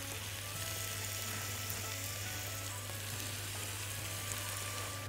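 Garlic frying in hot olive oil with onion in a pan, an even crackling sizzle that runs unbroken, quiet and close, with no talking.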